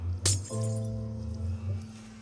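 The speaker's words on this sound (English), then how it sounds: "both the portals shatter and the portal way is removed" Portal stones shattering in a video game: one sharp, bright crash of breaking glassy stone, followed by a sustained ringing tone that slowly fades.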